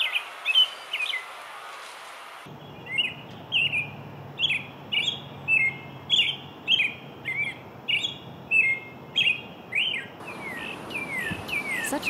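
A songbird repeats a short, high, bright phrase about a dozen times at steady intervals during spring migration at Mount Auburn Cemetery, fairly close and clear over a soft insect-like hiss, with other chirps at the start and end.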